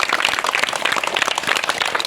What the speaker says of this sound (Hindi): ताली बजा दो किसी धर्मी के नाम